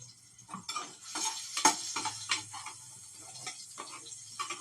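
Tomatoes roasting in a pan while being stirred, giving a steady sizzle broken by irregular scraping strokes, close and moderately loud with no talking.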